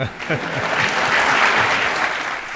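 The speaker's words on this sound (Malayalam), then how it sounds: "അതുകൊണ്ടാണ് ജനങ്ങൾ കൈയടിക്കുന്നത്." An audience at a televised courtroom-style interview show claps throughout, a dense, loud, sustained wash of applause, with a voice audible at the start.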